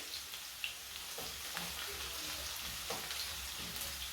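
Chopped onions fry in a pan until brown for a noodle dish, a steady close sizzle with scattered crackles and soft stirring scrapes, no voices over it.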